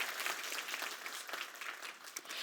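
Applause from an audience at a youth summit opening ceremony, a dense, steady wash of many hands clapping throughout, fairly distant and even in level with no voices over it.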